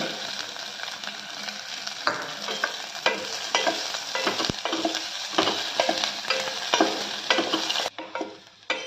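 Coriander, cumin, pepper and onion sauté in hot oil with a steady close sizzle, broken by frequent scrapes and taps of a stirring spoon against the pan, with no voices, before the sound drops away near the end.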